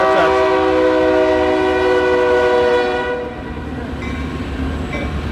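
A train passes a rail crossing at night at Berkley on the South Coast Rail line, its loud horn blaring with a chord for about three seconds. A heavy rumble and wheel noise from the passing cars follows.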